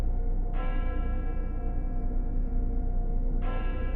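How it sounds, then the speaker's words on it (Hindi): A magic bell rings in an animated Hindi moral story, its steady ringing tone sustained and bright, with a second strike near the end over a continuous low background hum. "वो जंगल में जो पुराना पेड़ है वही बजाता है ये घंटी।"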